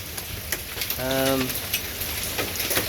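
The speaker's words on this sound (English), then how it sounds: "Alright, so I'm filming because we've got hail." Hail falls outdoors over a garden as a steady, dense patter with scattered sharp ticks, and a short voiced sound briefly rises above it.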